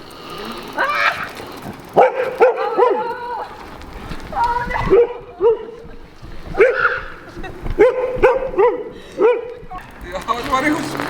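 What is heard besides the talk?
dog barking and whimpering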